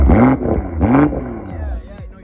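A BMW B58 straight-six engine revs twice in quick succession, each rev rising and falling smoothly, then settles toward idle with a few faint exhaust pops; the sound is close and loud, with no talking.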